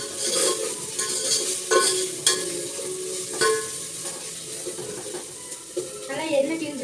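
Ginger garlic paste sautés in hot oil in a pan with a steady soft sizzle. A spoon stirs and scrapes now and then, giving faint clinks, while a person talks over the cooking.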